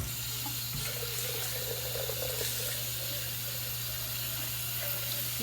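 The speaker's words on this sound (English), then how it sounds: "I want you to rinse the blender first." Tap water runs steadily into a blender jar to rinse off leftover strawberry banana smoothie, a continuous close splashing hiss with no break for the whole stretch.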